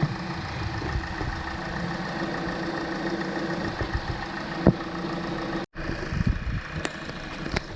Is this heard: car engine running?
yes